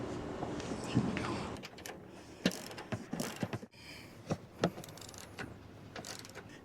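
Hand ratchet with a 14mm socket on an extension loosening strut bolts on a Honda Ridgeline pickup during a leveling kit install, giving a few close, sharp clicking bursts separated by pauses.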